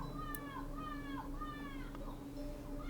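A child next door repeatedly meows in imitation of a cat, several rising-falling cries in a row, faint and muffled through a wall over a steady background hum.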